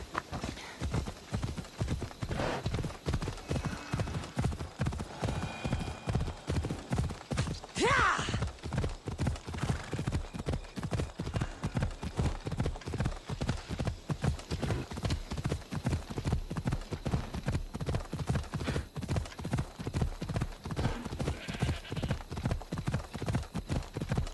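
Horse hooves clip-clop steadily and rhythmically as a mount is ridden in Assassin's Creed Odyssey, the regular beats continuing throughout with a brief whinny near the start.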